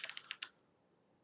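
A few quick keystrokes on a computer keyboard, about five light clicks in under half a second, followed by near silence.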